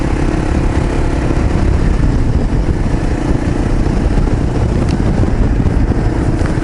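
A motorcycle engine runs steadily after a carburetor upgrade, a loud, close, continuous low rumble with a dense throb and no clear revving changes.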